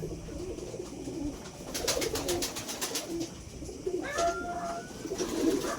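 Several pigeons coo in low, rolling calls close by, with a burst of rapid clicking and a brief higher note mid-way over soft background noise.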